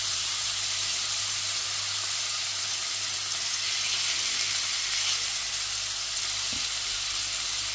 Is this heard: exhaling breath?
no